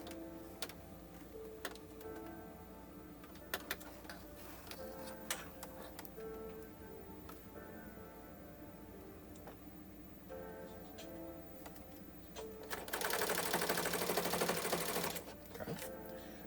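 Bernina sewing machine stitching across a seam through several fabric layers, a quiet mechanical ticking run broken by sharp clicks, then a louder burst of rapid stitching near the end.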